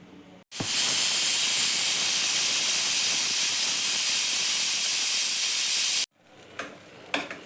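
A pressure cooker vents steam after cooking vegetable pulao: one loud, continuous hiss starts abruptly, holds for about five and a half seconds, then cuts off sharply, followed by a few faint clicks and knocks.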